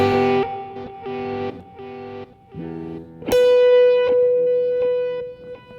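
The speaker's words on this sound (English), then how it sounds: "I think this is a reverse echo." Electric guitar played through a pedalboard reverse echo effect, a few chopped swelling chords followed by a long sustained tone that rings out and fades, loud and close with no talk.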